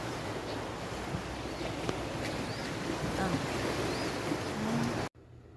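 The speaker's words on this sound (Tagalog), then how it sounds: "So mao na gid ni ang dagat" Sea waves wash steadily beneath constant wind rumble on the microphone, a broad continuous surge that cuts off abruptly near the end.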